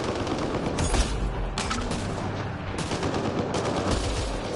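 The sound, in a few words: gunfire in the video game Mass Effect Andromeda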